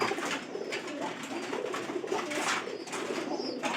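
Soft pigeon coos over a steady rustling, fluttering background, close and continuous with no talking.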